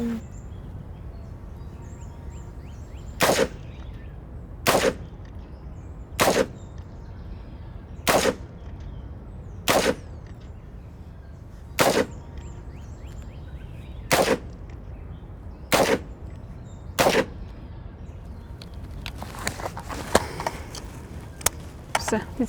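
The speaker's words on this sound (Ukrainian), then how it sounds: "А мені Андрій сказав в гагон стріляти" Sharp single gunshots ring out at regular intervals of a couple of seconds, loud and echoing across an outdoor military firing range, followed by a burst of faster, scattered shots near the end.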